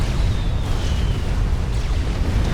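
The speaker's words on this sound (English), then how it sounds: "Khal dies in the explosion as well" Unit exploding in the real-time strategy game Supreme Commander: Forged Alliance, a loud dense rumbling blast with crackling debris that fills the moment without any voice.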